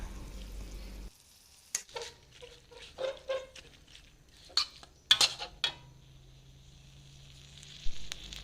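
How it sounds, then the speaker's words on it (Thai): Minced pork with young tamarind chili paste stir-frying in a pan, with scattered scrapes and clinks of a utensil against the pan over a faint sizzle, in irregular bursts with quiet gaps between. "ผัดไปเรื่อย ๆ นะคะ จนกว่า เราพอใจ รสชาตินะคะ"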